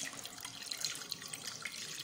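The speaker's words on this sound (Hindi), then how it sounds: "हमने तकरीबन 2 गिलास इसमें हमने पानी डालने हैं।" About two glasses of water being poured into a pot while making a home weight-loss drink, a soft steady splashing trickle, close and continuous with no talking.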